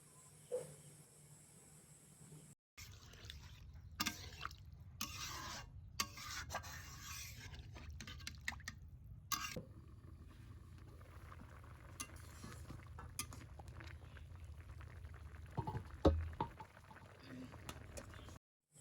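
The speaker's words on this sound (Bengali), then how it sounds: "ভালো করে কষানো হয়ে গেলে দিয়ে দিবেন দুই কাপ পরিমাণে পানি" Water added to fish curry with eggplant and potato, then a steady low simmering bubble in the pot. Scraping and stirring sounds and a few clinks sit over the simmer.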